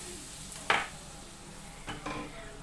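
Butter sizzles softly in a pot for a Turkish potato kavurma, punctuated by a sharp clatter of a spoon and a light scrape, no talking.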